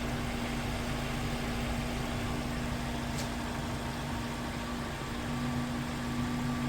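A Lexus RX300 engine idles steadily on PRINS gas equipment with a constant low hum and a faint whine, even and unbroken, with no talk over it.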